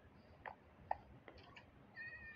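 A cat gives a few faint, short meows, spaced apart, over quiet background noise in a cave outing.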